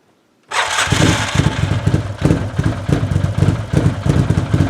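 Old engine cranks and catches after a moment of silence, then settles into a loud, steady, lumpy running rhythm close by, with no talking.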